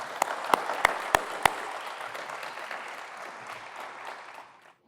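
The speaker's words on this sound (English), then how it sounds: "Please give them a round of applause." Conference audience at a scientific session on lunar exploration applauding: five sharp, evenly spaced claps up front, then a steady wash of clapping that slowly fades to silence.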